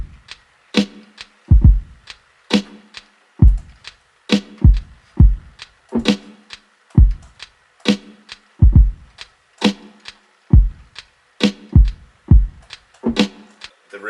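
A produced hip-hop beat with a filtered, muffled drum kit, its pitched-down hi-hat ticking above heavy kick and rim-shot hits in a steady looping rhythm, loud and alone.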